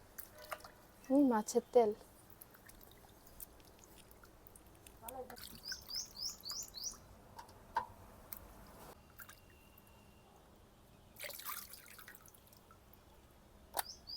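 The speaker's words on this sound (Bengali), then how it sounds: "মাছটা কেটে নিয়েছি, এখন ভালো করে ধুয়ে নেব।" Cut pangas fish being rinsed in water in a kitchen, a few quiet splashes and drips in short bursts with someone speaking briefly over them and faint bird chirps outside.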